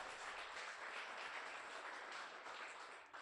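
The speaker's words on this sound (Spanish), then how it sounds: "Denle un aplauso al Señor por eso." A church congregation applauds, a dense, steady wash of many hands clapping that carries on throughout and fades slightly at the end.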